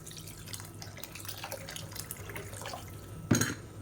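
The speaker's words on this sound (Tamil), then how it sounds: "இப்போ குழம்புக்கு தேவையான அளவு தண்ணி ஊற்றிக்கலாம்" Water is poured into a pan of tamarind kulambu during cooking, a soft close splashing trickle that ends in a brief louder splash.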